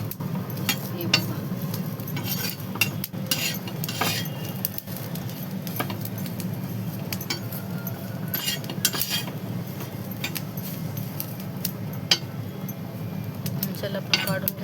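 Roasted coconut and onion being stirred in a pan for a prawn curry, a steady soft scraping and clinking of a spoon against metal with a faint sizzle underneath, continuous and close.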